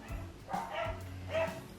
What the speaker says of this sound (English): So can you hear my dogs in the background?